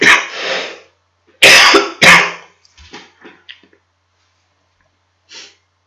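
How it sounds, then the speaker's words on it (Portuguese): A man coughs several times in quick bursts, loud and close, followed by softer throat-clearing sounds and a faint final cough after a pause, in an otherwise quiet room. "Vou pegar uma tossidinha."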